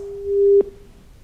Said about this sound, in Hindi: ये फोन डिस्कनेक्ट कर रहे हैं, काट दे रहे हैं